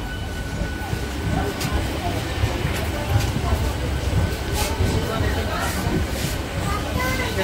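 Black Diamond Express train pulling into Bandel station, a continuous heavy rumble and rattle of carriages with faint clicks, with voices talking over it.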